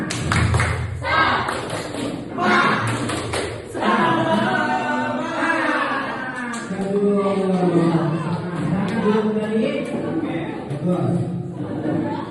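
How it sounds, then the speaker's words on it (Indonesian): A classroom group performs the tepuk semangat clapping routine in an Al-Quran Hadis lesson: crisp rhythmic group claps in quick bursts, followed by lively chatter and voices from the crowd of pupils. "Tepuk semangat."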